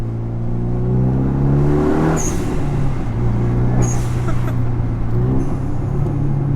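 A Renault Megane 2 RS R26.R's throaty engine revs up and settles, a few sharp bursts of throttle rising over a steady low rumble, heard up close with no talk.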